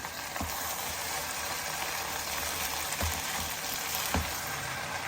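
Brinjal pieces fry in a pan with garam masala, giving a steady, even sizzle throughout, broken by a few soft knocks as the pieces are stirred.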